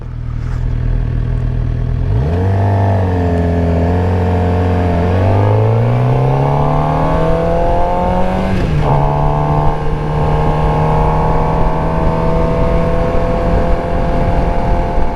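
A car engine revs during rev matching with the clutch feathered: a loud, close engine note climbs sharply, levels off, surges higher again, then holds a steady elevated drone.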